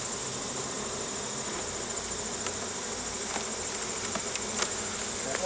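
Honey bees swarm around an open hive in a dense, continuous buzz, loud and close, with a few individual bees zipping past.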